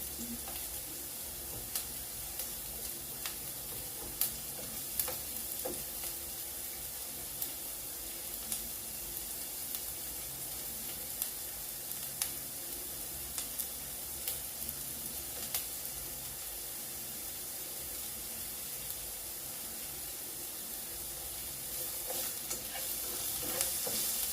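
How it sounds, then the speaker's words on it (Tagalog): Onion frying beside garlic in a pan for carbonara, a quiet steady sizzle with occasional small ticks and pops, lasting long, fairly faint, with no talking. "lagyan na rin natin yung sibuyas sa kabilang side. Para hindi sayang space ng kawali."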